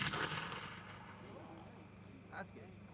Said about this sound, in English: Number two is also some single shot mines.